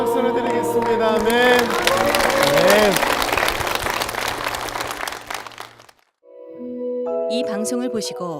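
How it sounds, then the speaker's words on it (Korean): A church congregation at Young-gwang Church bursts into applause for about six seconds over sustained organ or choir tones, then the clapping cuts off and music carries on alone. "주님께 영광의 박수를 드리겠습니다."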